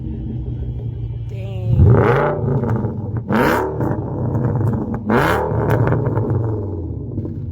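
A 5.2-litre V10 engine in an Audi S8 revs hard several times in quick bursts, loud and close, with a short remark spoken between revs.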